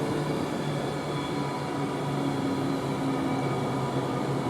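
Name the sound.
train passing through Rugby station, West Coast Main Line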